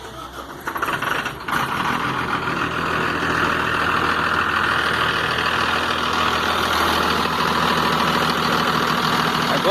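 An electronic Mercedes 1620 truck diesel engine idles with a steady loud rumble and a rhythmic knocking engine noise, running close and continuous after a brief rough start.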